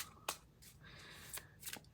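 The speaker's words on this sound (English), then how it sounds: "sometimes beautiful cards are tricky to shuffle. They're very thick and a little bit matte." Thick, slightly matte tarot cards are shuffled by hand in a quiet room, several soft riffling bursts and papery slides coming up close at low volume over about two seconds.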